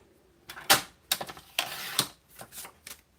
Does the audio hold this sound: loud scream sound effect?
no